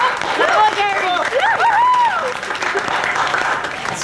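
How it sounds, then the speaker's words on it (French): Loud studio audience applause at a TV show, dense steady clapping for about four seconds while voices cheer and shout over it. "Ils applaudissent aujourd'hui, mais attends demain,"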